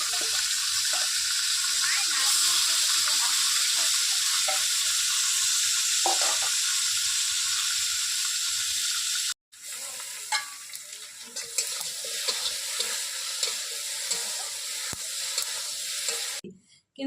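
Egg and potato frying in a pan while being stirred, a loud steady sizzle with scraping and light clatter, briefly cut off midway and then resuming until an abrupt stop.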